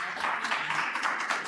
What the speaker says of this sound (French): Applaudissez-le, merci.